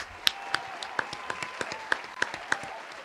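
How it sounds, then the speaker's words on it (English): A small audience claps at a talk about a Victoria's Secret runway show, with sparse, separate hand claps spaced about every quarter second over a soft room murmur, moderately near and fairly quiet. "I'll give you a round of applause."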